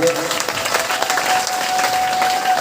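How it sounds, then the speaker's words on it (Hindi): Loud, steady applause from a crowd gathered at a Shrimad Bhagwat katha aarti, a continuous dense roar of clapping with a faint tonal hum running underneath. "एक बार जोरदार ताली बजा दीजिए।"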